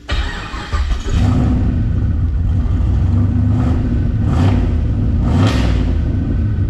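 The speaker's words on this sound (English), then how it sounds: "Let's see if I fire it up, if pressure comes up" A drag racing car engine cranks and catches about a second in, then settles into a loud, steady, deep rumble with several brief rev swells. Close by, with no talk.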